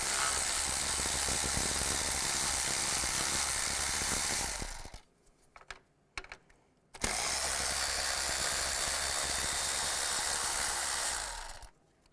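Ratchet with a 10mm socket working bolts and nuts off the intake of a 2002–2009 Chevy Trailblazer, a dense steady clicking that runs for several seconds, stops briefly for a few faint knocks, then resumes just as loud and close.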